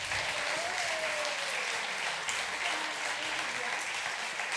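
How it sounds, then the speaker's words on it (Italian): Sustained audience applause at a literary prize ceremony, a broad, even wash of clapping from a crowd that holds steady for several seconds. "non l'ho sentito bene l'applauso"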